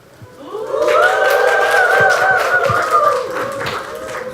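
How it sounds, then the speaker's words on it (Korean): Audience applause for a speaker at a Korean talk event on collaborative robots: a steady wash of clapping swells after a brief quiet start and holds loud for several seconds, with sustained tonal cheering or whooping running through it. "우리 박동일 박사님한테 큰 박수 다시 한번 부탁드리겠습니다"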